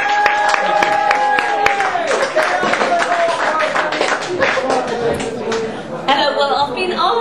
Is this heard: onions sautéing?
no